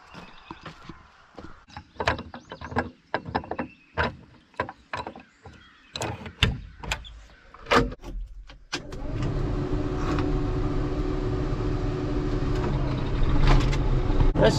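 A Case International tractor, rebuilt and ready for discing, first gives scattered clanks and mechanical knocks, then its engine starts and runs with a steady, loud low rumble through the rest.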